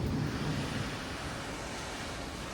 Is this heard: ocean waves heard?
yes